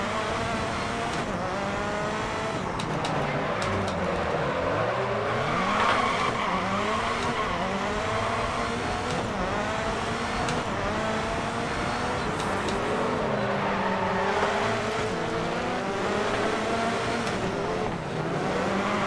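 A rallycross car in the racing game DiRT Rally, with a revving engine that rises and falls steadily and tires squealing as it understeers through corners, loud and continuous with no voices.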